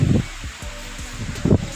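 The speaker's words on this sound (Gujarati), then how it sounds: "એટલી જો કેટલો વાયરો છે એકદમ વાતાવરણમાં પલટો આવી ગયો" Strong wind gusts rustle leaves as the weather suddenly turns before rain, with a steady broad rush punctuated by a few low buffeting thumps; no one speaks.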